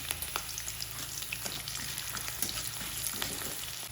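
Peanuts fry in a pan for lemon rice, giving a faint, continuous sizzle with scattered small crackles and light stirring, no voices.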